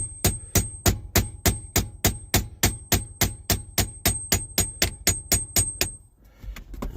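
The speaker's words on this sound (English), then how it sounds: "Tapping this pin back through the gear shifter arm." A pin is tapped back through a gear shifter arm with a hammer, giving about eighteen steady, evenly spaced metallic taps close up, each ringing briefly, before the striking stops and a short shuffle of handling noise follows.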